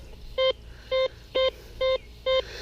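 A Whites MX Sport metal detector sounds off on a trash target with five short, identical beeps at an even pace, clear and close over a low background hiss.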